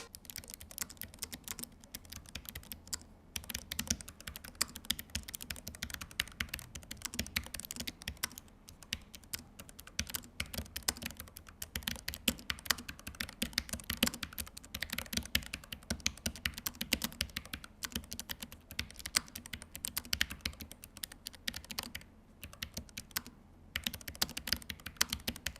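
Steady typing on an ASUS ROG Falchion RX low-profile mechanical keyboard, a fast continuous patter of close, crisp keystrokes with brief pauses, and no talking.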